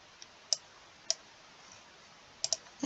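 Keyboard shortcut presses of Ctrl and tilde while checking a spreadsheet formula, heard as a few sharp, close clicks spaced apart, including a quick double click near the end, in a quiet room.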